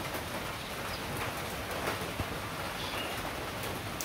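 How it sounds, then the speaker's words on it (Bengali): Rain falls steadily outdoors in a village, a soft, even patter with occasional faint drops and no voices. "যেভাবে বৃষ্টি নামছে দেখছেনই"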